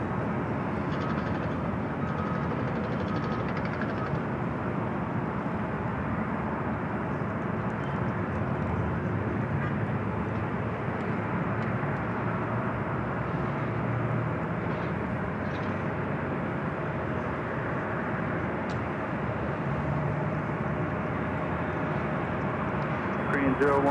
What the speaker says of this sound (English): this A321neo Delta will start rolling down at 24 left